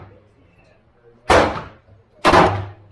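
Two loud, sharp rifle shots at an outdoor shooting range, about a second apart, each with a booming tail, with a low hum between them.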